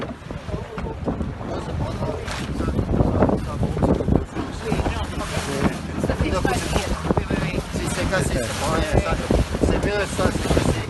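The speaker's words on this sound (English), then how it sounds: "On the boat with a balloon, dragging it across the water." A boat drags a gas balloon across open water during the Gordon Bennett balloon race, with heavy wind buffeting the microphone and a steady rushing wash, and voices are faintly audible underneath.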